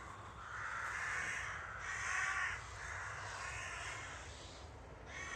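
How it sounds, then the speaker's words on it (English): Magpies calling overhead in the open sky, a run of harsh chattering caws in several bursts, moderately distant and steady with no talk. "You hear those magpies in the sky?"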